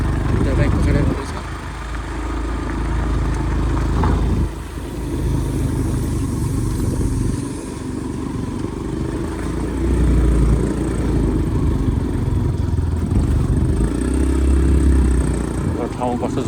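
Motorcycle riding at night along a mountain road, its engine droning steadily and loud up close while wind and road rumble fill the low end, with voices talking over it at times.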